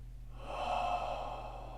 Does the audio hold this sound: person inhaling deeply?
yes